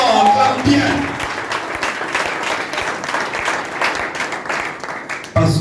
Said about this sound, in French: Si tu veux acclamer, acclame fort, acclame bien.